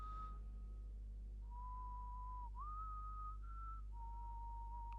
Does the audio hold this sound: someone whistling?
yes